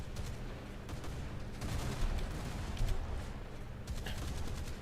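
Naval guns in the War Thunder naval beta, dense rumbling volleys and rapid repeated firing layered over a continuous roar, loud and sustained with heavier bursts near the middle and end.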